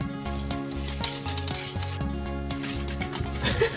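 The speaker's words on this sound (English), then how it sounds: "Add brown sugar and mix them well." Brown sugar being mixed into cookie dough in a bowl, rhythmic scraping and stirring strokes with repeated soft thumps, close and steady, with light background music.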